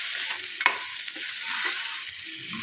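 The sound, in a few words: sautéing roasted peanuts and other ingredients for apple chutney in pan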